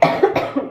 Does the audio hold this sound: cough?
yes